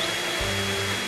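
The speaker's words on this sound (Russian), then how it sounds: "Волк включил пылесос в розетку." A vacuum cleaner switching on: a whirring motor hum kicks in partway through and settles into a steady drone over a broad hiss.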